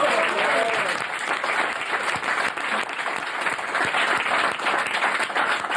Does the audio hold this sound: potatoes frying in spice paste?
no